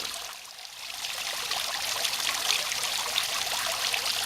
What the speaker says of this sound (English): Let's watch the water dropping into the pool.